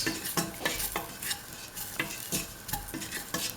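Spoon stirring spices and salt through a pan of kidney bean and potato rice, a steady run of scraping strokes with faint sizzling underneath, close and moderately loud, no voices.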